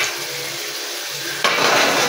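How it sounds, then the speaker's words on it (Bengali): Fried meat drops into a large wok and bursts into loud, broad sizzling that carries on steadily as it is stirred, following a quieter hiss of hot oil. "ভাজা মাংসগুলো আমি এবার দিয়ে দেবো"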